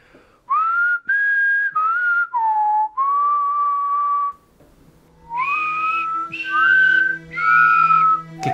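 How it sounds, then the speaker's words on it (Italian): Several people whistle a melodic tune in bright sustained phrases, with short pauses between them; loud and close, with no talking over it. "Che cazzo fischiate? Che cos'è questo suono?"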